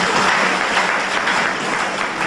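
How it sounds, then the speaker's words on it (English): A graduation audience claps steadily for about two seconds, a dense, even wash of applause from a large crowd. "Can you clap our hands for him?"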